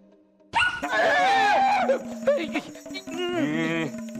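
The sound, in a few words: person imitating a dog barking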